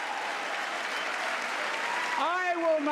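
Sustained applause from a large crowd in the Capitol, steady and dense throughout, with a voice starting to speak over it near the end.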